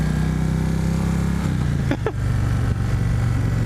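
A 2017 Indian Roadmaster touring motorcycle rumbles steadily at a low cruising drone while being ridden, with a brief wind or handling swish near the middle and the engine holding constant throughout.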